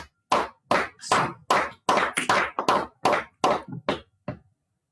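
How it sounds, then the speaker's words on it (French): A church congregation claps in praise, about a dozen loud, separate claps in a quick but uneven rhythm, heard close with silence between them and no talking. "Applaudissez le Seigneur."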